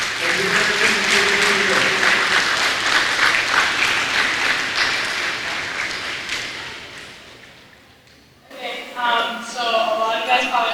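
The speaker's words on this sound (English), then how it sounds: "kids, turn around and applaud your parents for being here" Loud, sustained crowd applause at a Police Athletic League summer camp graduation ceremony gradually fades away, then a voice begins speaking over a quiet room.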